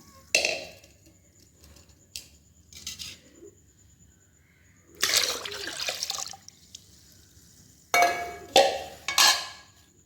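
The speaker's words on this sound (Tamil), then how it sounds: "இந்த அரிசி கழுவுன தண்ணியும் ஊற்றிடுறோம்" Rice-washing water is poured into a container in several separate splashing bursts, with quiet gaps and small clinks between pours.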